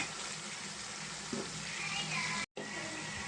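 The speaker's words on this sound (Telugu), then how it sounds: "ఉల్లిపాయలు అయితే మనకి బాగా కొంచెం గోల్ కలర్ వచ్చే వరకు ఫ్రై చేసుకుందామండి" Onions frying in a pan with turmeric and salt give off a steady, close sizzle that runs unbroken apart from a brief dropout near the end, with no talk over it.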